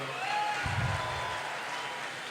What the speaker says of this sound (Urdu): بہت بھرپور تالیاں جناب